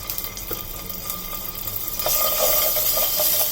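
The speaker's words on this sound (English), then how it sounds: "Once the oil is heated, I'm adding 1 teaspoon of ginger garlic paste." A teaspoon of ginger garlic paste sizzles in hot oil with a dense, steady frying hiss that swells louder partway through, with a few stirring scrapes, close and loud.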